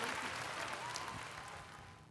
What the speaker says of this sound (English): Audience claps.